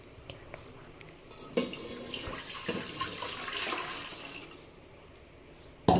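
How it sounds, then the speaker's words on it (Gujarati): Water poured into a dhokla steamer pot splashes and gurgles in a steady stream for a few seconds, close and moderately loud, ending with a sharp metallic clunk. "પછી એમાં પાણી નાખવાનું."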